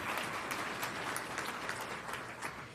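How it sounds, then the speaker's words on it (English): Applause rings out for a prize winner at the USA Jigsaw Nationals 2024 closing ceremony, a steady, moderately faint wash of clapping that holds evenly throughout with no voices over it. "Let's give a round of applause for Carter."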